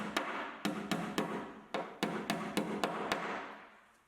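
A hammer drives a 3M Claw picture-hanging bracket into an indoor wall with about a dozen sharp, evenly spaced taps, each ringing briefly against a faint room hum.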